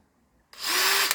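A Dewalt DCD798D1 brushless hammer drill/driver, brand new from its box, spins up abruptly from silence to its top speed and holds a loud, high, steady whine for about a second, with no talk over it.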